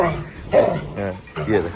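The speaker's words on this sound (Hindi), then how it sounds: "अब भौंकने लगेगा, ये देखो भौंकने लगेगा" A Rottweiler gives several short barks and yips in quick succession at close range, with a person speaking at the same time.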